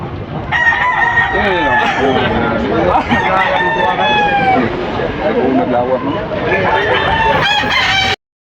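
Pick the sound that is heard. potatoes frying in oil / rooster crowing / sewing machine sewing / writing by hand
rooster crowing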